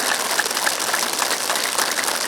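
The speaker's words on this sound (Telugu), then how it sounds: "ఇంత చక్కగా ధ్యానం చేసిన మనకు మనం గట్టిగా క్లాప్" A group at a meditation training session for a police academy claps together in a steady, even burst of applause that lasts a couple of seconds.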